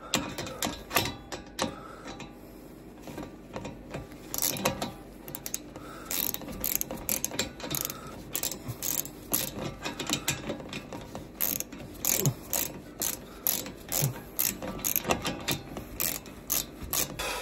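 A torque wrench tightens the rear brake caliper bolts on a Renault Scénic 4 to 35 Nm. Close, rapid ratcheting clicks repeat in quick runs with short breaks between them.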